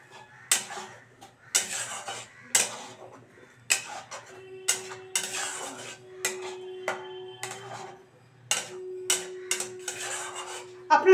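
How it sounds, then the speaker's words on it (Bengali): A spoon scrapes and clinks against a pan as spinach and coriander chutney with chili powder and turmeric is mixed, giving repeated close, irregular taps and rubs over a faint steady hum. "এবার ভালো করে আমি মিশিয়ে নিচ্ছি।"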